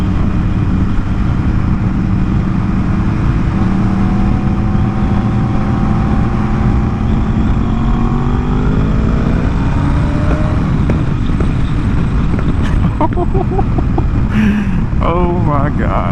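A Yamaha R1 sport motorcycle revs up with its engine note climbing, then loud exhaust pops and crackles burst out near the end, close and over steady wind noise.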